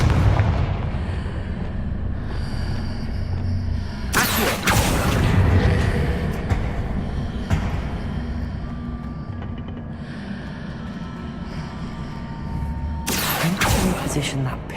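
Two loud blasts from the Confringo fire spell in the video game Hogwarts Legacy, sharp booms with rumbling tails, separated by several seconds of ambient game sound with voices in between.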